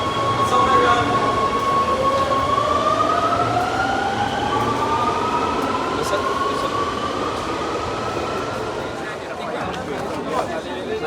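A Rome Metro Line B train pulls into Colosseo station, its motor whine rising and falling in pitch over steady rumbling wheels, loud and close, with faint talk mixed in.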